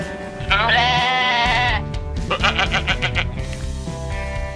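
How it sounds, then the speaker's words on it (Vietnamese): A Japanese animal toy plays a goat bleat: a loud, wavering electronic bleat, then a burst of shorter pulsing tones over steady music. "Đúng rồi, đó là con dê"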